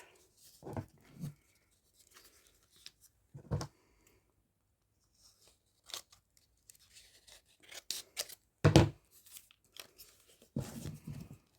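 Scissors cut a paper template for a crocheted book cover, giving scattered crisp snips and crunchy bursts with long quiet pauses in between, close and fairly soft.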